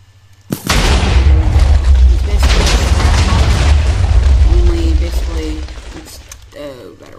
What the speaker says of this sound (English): look at the fragmentation explosive, which is crafted with just 4 shrapnel and 1 incendiary explosive